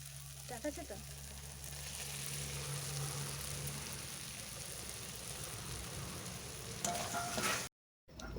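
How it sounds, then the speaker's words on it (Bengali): Mushrooms that were fried earlier hit a spice paste that has been cooked down until the oil separates, giving a steady close sizzle and frying crackle with some stirring throughout. "এরপর দেব ভেজে রাখা মাশরুম"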